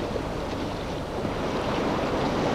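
Waves wash and surge on open water, a loud continuous roar of surf mixed with gusty wind noise, with no voices.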